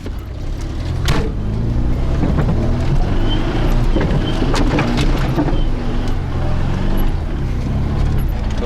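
An old IZh car engine labouring offroad, a loud continuous rumble with wind buffeting and occasional knocks and rattles from the bumpy track.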